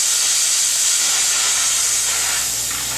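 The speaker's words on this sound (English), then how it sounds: "This will give you a dry steam, 100 psi of concentrated" A Therma Steem Deluxe steam cleaner sends out a loud, steady, close hiss of dry, concentrated high-pressure steam, unbroken for the whole stretch.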